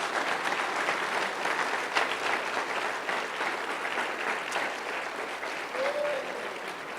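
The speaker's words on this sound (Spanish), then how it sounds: "¿Cuántos dan un aplauso al Señor?" A Spanish-speaking church congregation claps for the Lord during a service, a steady, dense wash of applause lasting several seconds with no voices standing out.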